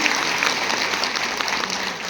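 An audience at a women's workshop claps in welcome, producing a dense, steady burst of applause that fills the short moment without pause.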